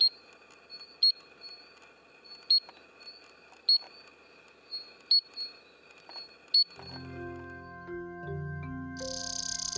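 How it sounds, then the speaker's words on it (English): In an East African night chorus, tink frogs give sharp metallic tinks at roughly even intervals over a faint background chorus, until music swells in and takes over for the last few seconds. "Tink frogs join the night chorus to attract mates."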